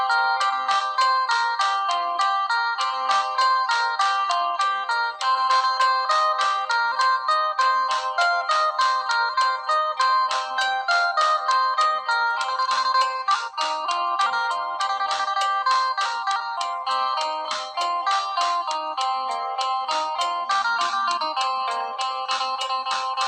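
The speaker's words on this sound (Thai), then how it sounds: "ฟังเสียงปินเพาะๆนะครับ เพื่อความเพลิดเพลินนะครับ" Bright plucked string notes of a Thai phin lute ring out in a quick, continuous melody, steady and fairly loud, with no voices.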